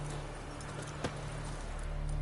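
Hooves of the horse Roach in The Witcher 3 clip-clop in a steady walking rhythm over a low ambient hum, with one sharper thud midway.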